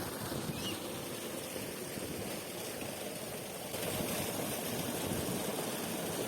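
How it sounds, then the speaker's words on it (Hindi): Water flows steadily from a village tube well, a continuous soft rush that stays even and unbroken. It is fairly quiet, with no voices over it. "बिल्कुल सिर्फ पानी की आवाज़ है, चिड़ियों की आवाज़ है"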